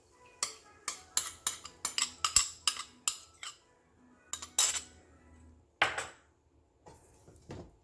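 Stir-fried spaghetti with stir-fry seasoning sauce gets moved into a larger pan, giving a run of close, rhythmic clanks and scrapes of utensil on metal, then a few louder knocks and a quiet pause.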